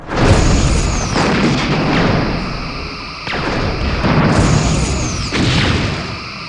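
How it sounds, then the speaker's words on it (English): Torpedoes fire in the Star Trek: Bridge Commander space combat game, loud booming launches that come roughly every one to two seconds, each with a heavy rumbling tail that fills the gaps. "I need to get through its shield, so I have to use torpedoes to really punch through"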